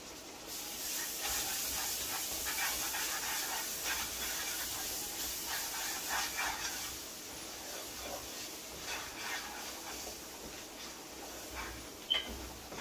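Crab, shrimp and garlic fry together in a pot with a faint, steady sizzling hiss that carries on evenly, with a few soft crackles rising out of it.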